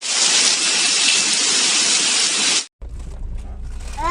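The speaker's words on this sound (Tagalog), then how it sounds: "Sobrang lakas ng ulan." Heavy rain pours down outside in a loud, steady, dense hiss that fills the first two and a half seconds, then cuts off briefly and returns softer and more muffled.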